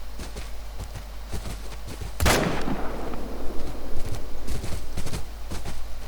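A single loud hunting rifle shot in theHunter: Call of the Wild cracks out midway, echoing and rolling away over a steady outdoor ambience with faint scattered footsteps and rustling.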